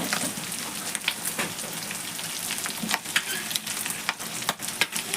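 Onion curry with chili powder crackles and sizzles in a frying pan while a spoon stirs it, giving a close, steady hiss broken by scraping strokes.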